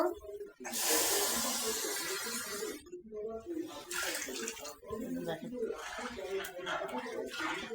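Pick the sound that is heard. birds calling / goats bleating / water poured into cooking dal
water poured into cooking dal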